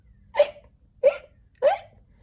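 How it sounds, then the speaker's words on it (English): Three short, sharp hiccups come at a steady pace about half a second apart, each a clear voiced hic with quiet pauses between them. "Pete still has the hiccups."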